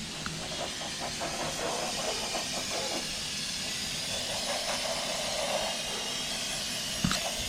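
A steady aerosol hiss of brake cleaner sprayed onto the valve train of a Ford Maverick engine, close and sustained, ending with a sharp click near the end.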